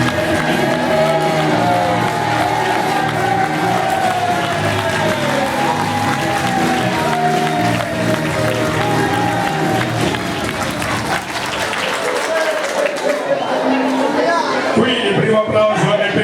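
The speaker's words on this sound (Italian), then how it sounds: "Applauso." Loud, sustained applause from a carnival show audience after a Pavarotti impersonation with piano accompaniment, dense clapping and crowd noise throughout, thinning toward the end.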